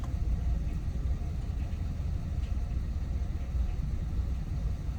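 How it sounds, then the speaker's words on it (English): A car with a suspected cylinder 3 misfire drives around town, its engine producing a steady low rumble and road noise with a slightly uneven texture, heard from inside the cabin without talk. "I'm driving around town"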